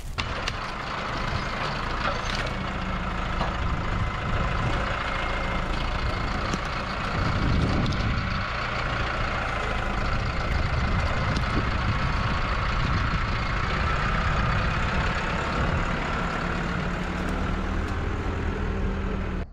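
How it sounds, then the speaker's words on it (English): A tractor engine runs steadily while pulling a big log out of the ground, a loud, continuous low diesel rumble that holds for the whole stretch, with no talking over it. "See if the tractor can get that out of there."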